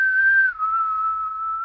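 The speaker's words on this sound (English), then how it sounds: "or a whistle into the mic," A person whistles a single steady tone close into a microphone, holding it briefly before dropping slightly lower and sustaining it cleanly.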